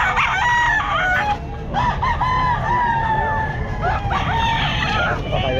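A Pumpkin Sweater gamefowl rooster crows several times at a busy pet market in Calumpit, loud and near, with clucking birds and crowd chatter behind it.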